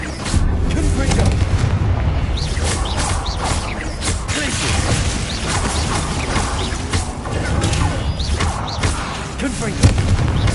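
Confringo blasting-spell explosions in Hogwarts Legacy on PS5 make a constant dense roar of booms and crashing impacts, loud and layered throughout the whole stretch.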